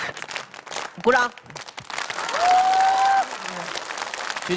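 Applause from a studio audience at a televised stand-up comedy show rises between bursts of the performer's voice, with a sustained vocal tone in the middle and clapping continuing around it.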